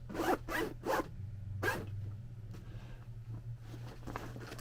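Double zipper on a SOG first responder bag being pulled open in several quick, close rasping strokes, then a longer drawn pull, followed by quieter handling rustle over a steady low hum.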